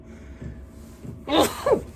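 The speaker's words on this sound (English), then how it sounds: "excuse me, I'm going to sneeze" A single sharp sneeze bursts out near the end, preceded by a brief quiet inhale over low background hum.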